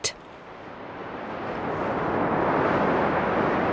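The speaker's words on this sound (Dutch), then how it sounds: "Het waait." Strong wind roars in a broad, rushing wash that steadily builds in loudness, buffeting close by, after a brief sharp knock at the start.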